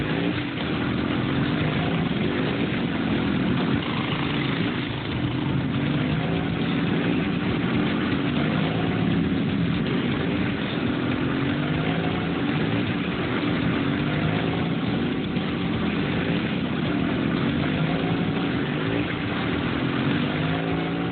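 A motorbike engine runs steadily and loudly for the whole stretch with a constant droning hum and no talking, heard during a chase scene in a Telugu bus story.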